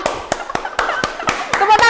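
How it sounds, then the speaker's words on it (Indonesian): A steady run of sharp, evenly spaced hand claps in a studio, eight or so crisp slaps close to the microphone, with voices talking over the last part. "Tepuk tangan dulu dari malam semuanya."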